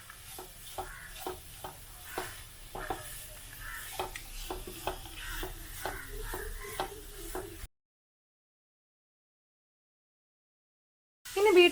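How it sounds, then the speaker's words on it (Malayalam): Chopped beetroot stirred in a frying pan for a Kerala beetroot kadala thoran, with regular scraping and tapping strokes of a spoon over a soft sizzle, then several seconds of silence and a brief louder burst at the end. "ഇനി നമുക്കിതൊന്ന് നന്നായിട്ട് ഇളക്കി യോജിപ്പിച്ച് കൊടുക്കാം."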